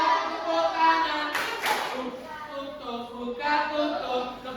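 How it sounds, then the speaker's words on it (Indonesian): Children clap their hands together in a short burst of rapid claps, heard beneath and between the steady voice of a woman leading a classroom song. "Tepuk tangan."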